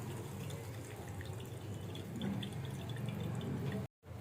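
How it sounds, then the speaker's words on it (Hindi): Grated radish squeezed hard in a cloth releases water, with fine drips and trickles falling close by into a vessel at low volume, then a brief silence near the end. "खूब अच्छे से हम इसको देखिए निचोड़ेंगे। देखिए कितना पानी निकल रहा है।"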